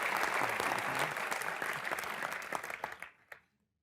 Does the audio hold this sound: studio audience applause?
yes